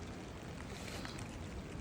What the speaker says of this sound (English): It's windy, it is raining.